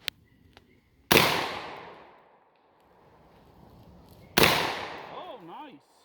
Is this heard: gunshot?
yes